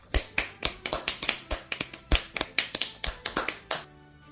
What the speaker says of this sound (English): clap your hands to get me back to normal